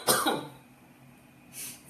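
A sharp nearby cough at the start fades off, then a softer second cough follows after a pause.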